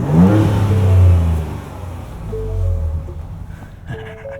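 A Ford Ranger Raptor truck engine revs loudly and close up at first, then its deep drone eases down to a steadier hum as the truck keeps moving.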